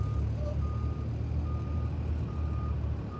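A truck's reversing alarm beeps in a steady, evenly spaced series over the low, constant rumble of its idling engine, heard outdoors at a boat launch, with no talk.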